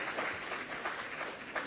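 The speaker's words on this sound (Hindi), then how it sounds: "जोरदार तालियां मैथिली के पिताजी के लिए" Applause for a politician's father during an interview with newly elected MLA Maithili Thakur, a steady patter of clapping from a small studio audience, fairly faint and continuous.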